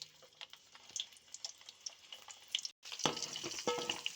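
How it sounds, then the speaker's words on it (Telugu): Amla, Indian gooseberries, frying in oil for pickle, with a soft, steady sizzle and small pops and spatters scattered throughout, louder after a short gap near the end. "ఇంకొక వాయి వేయించుకుంటాను"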